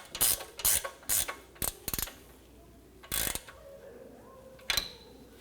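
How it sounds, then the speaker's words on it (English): A hand ratchet tightens a nut on an inner tie rod of a 2011-15 Kia Sorento, giving several short bursts of crisp clicking with pauses between strokes, close and fairly quiet. "And you can tighten this nut down."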